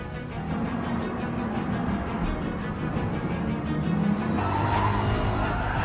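Race cars weaving on track in the Gran Turismo Sport video game, engines droning with tires squealing and skidding, a steady moderately loud roar with brief whining squeals rising and falling.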